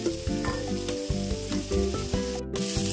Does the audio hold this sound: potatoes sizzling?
yes